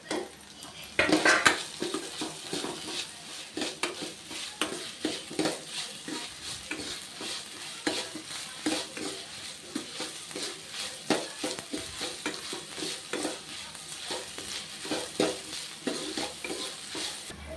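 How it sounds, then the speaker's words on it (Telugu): Finely chopped green chilies fry in a pan for palak paneer, a steady sizzle with rapid, rhythmic scraping and clinking of a spoon against metal throughout, with no talk. "పచ్చివాసన పోయే వరకు బాగా ఫ్రై చేసుకోవాలి. చేసుకొని దీంట్లో కొన్ని సన్నగా తరిగిన పచ్చిమిర్చి ముక్కల్ని వేసుకోవాలి."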